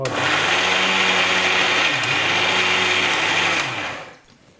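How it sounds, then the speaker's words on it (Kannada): A kitchen mixer grinder whirs loudly and steadily, blending cashews into a smooth paste for about four seconds, then winds down and cuts off. "ಇದನ್ನ ಮಿಕ್ಸಿ ಮಾಡ್ಕೊಟ್ಬಿಡ್ತೀನಿ ಓಕೆ ಸರ್ ನೈಸ್ಗಾಗಿ ಹಾಂ ಫಸ್ಟಿಗೆ ಒಂದು ರೌಂಡ್ ಹಾಗೆ ಹೊಡ್ಕೊಳ್ತೀನಿ"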